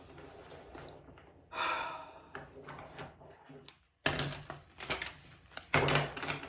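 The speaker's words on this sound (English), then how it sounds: "take a few deep breaths and loud exhales" Deep breaths drawn in and pushed out as loud exhales, several audible gasps and sighing out-breaths in an uneven rhythm, close and fairly loud, with short quiet gaps between them.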